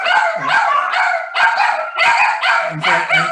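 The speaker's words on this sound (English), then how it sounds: "can you hear that? Those are my dogs." Several rescue dogs bark and yelp in quick repeated bursts, loud and close, with high-pitched excited yips overlapping one another in an uneven rhythm.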